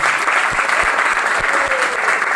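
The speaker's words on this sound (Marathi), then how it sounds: "जोरदार याच्यासाठी टाळ्या वाजायला पाहिजे" Audience at a student exam seminar breaking into loud, dense clapping, a close and continuous burst of applause lasting a couple of seconds.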